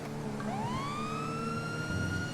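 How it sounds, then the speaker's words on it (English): A video game emergency medical vehicle's wailing siren rises and holds a steady high tone over a continuous engine rumble, loud and close. "when you get a call, you put on the sirens"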